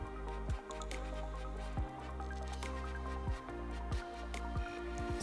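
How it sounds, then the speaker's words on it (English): Wet, squishy squeezes and drips as water is wrung out of freshly rinsed hair, several soft bursts spaced a second or so apart, close and quiet. "I squeeze the water out"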